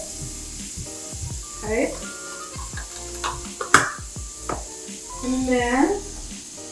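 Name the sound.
butter sizzling and being stirred in a pan for a roux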